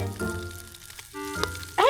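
Garlic fried rice with pork shoulder fries in a pan at a campsite, a short close sizzle with a scrape of stirring and a voice speaking over it.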